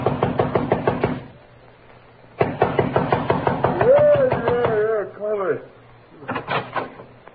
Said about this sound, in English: 10 minutes later I was pounding on his door